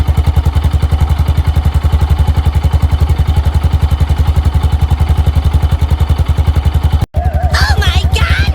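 A Yamaha XT660R single-cylinder motorcycle with its stock exhaust idles steadily up close, giving an even, quiet, rapid thumping pulse, with a brief cut near the end followed by a voice speaking over it.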